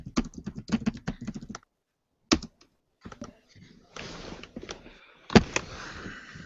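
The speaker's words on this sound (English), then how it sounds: "While I'm busy typing this down." Keyboard typing during a Star Wars D6 tabletop roleplaying session, heard as bursts of quick close clicks and taps broken by short pauses, with people talking at times.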